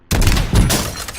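Two loud, close gunshot bursts ring out in Call of Duty Warzone, each with a sharp crack and heavy boom that tails off into reverberation.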